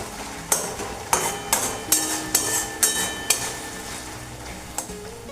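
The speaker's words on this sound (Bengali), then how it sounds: "সব কিছু একসাথে ভালোভাবে মশলাটা কষানো হোক" Spice masala for a Bengali fish dish is sautéed in oil, a low sizzle under a run of sharp metallic spatula knocks against the pan, about eight strikes in a steady beat, then quieter frying; no speech.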